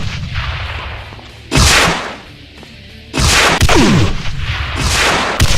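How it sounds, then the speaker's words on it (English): A Rocket Zombie in a Doom mod fires single rockets, each a loud, sharp blast with a whooshing tail, two main shots about a second and a half apart over a low, rumbling game backdrop. "When it attacks, it fires a single rocket"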